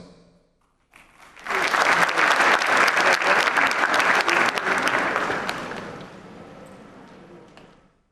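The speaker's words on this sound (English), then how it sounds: "He didn't like the applause." Conference audience at a Ghana CEO summit breaks into loud, sustained clapping that swells quickly, holds steady for several seconds, then gradually thins out and fades near the end.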